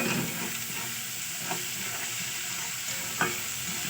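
Tomatoes with salt and chopped green chilli fry in a pan, stirred with a spatula; a steady close sizzle with a couple of soft scraping taps.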